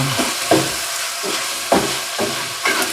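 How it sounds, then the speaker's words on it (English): Seasoned beef for a beefy vegetable soup stirred in a pot, with a steady frying sizzle and soft hiss broken by several scraping stir strokes at a slow, uneven rhythm, close and moderately loud. "So let's stir up our seasonings we put in our meat."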